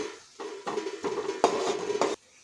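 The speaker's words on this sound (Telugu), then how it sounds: "నెక్స్ట్ అల్లం వెల్లుల్లి పేస్ట్ ఇప్పుడు కలుపుకోవాలి" A spoon stirs ginger garlic paste in a pan for a bean and tomato curry, giving a few close, uneven bursts of scraping and clinking that stop and start against a soft background sizzle.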